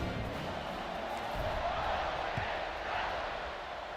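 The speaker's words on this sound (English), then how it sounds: "this crowd now ready to get behind them" A stadium crowd in a college football video game cheers as a kickoff follows a touchdown, a steady, fairly faint roar of massed voices beneath commentary.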